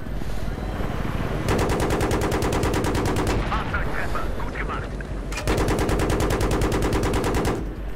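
Rapid automatic gunfire from the video game Battlefield 3, loud bursts with a tight repeating rhythm, one long burst then a pause with scattered shots and another sustained burst near the end.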